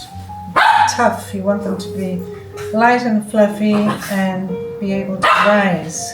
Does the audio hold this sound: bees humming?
no